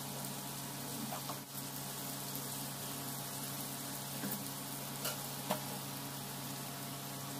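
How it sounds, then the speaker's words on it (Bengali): Katla fish fries in a pan with turmeric and salt, giving a soft, steady sizzle and crackle that continues evenly throughout, faint and undisturbed by talk. "হলুদ আর নুনটা দিয়ে একটু ভালোভাবে এটাকে আমি ফ্রাই করে নেব।"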